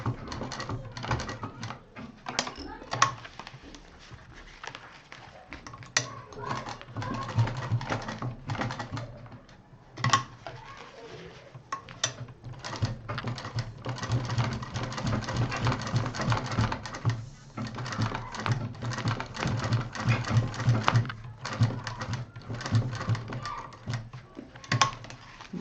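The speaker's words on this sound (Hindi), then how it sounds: "जहाँ से ये लाइनिंग जोड़ी गई थी उसी वाली पे मशीन चलानी है और यहाँ पर करीब 2 बार मशीन चलानी है" A sewing machine runs stitches along the lining seam of a homemade clutch, a rapid mechanical rattling in bursts with short pauses between runs, close and moderately loud.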